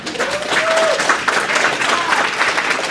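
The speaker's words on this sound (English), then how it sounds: "Let's give her a round of applause." An audience claps steadily in a continuous burst of applause, with a brief whistle-like tone rising above the clapping early on.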